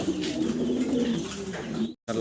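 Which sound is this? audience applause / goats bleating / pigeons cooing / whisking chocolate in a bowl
pigeons cooing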